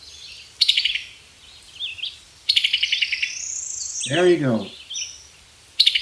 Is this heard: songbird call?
yes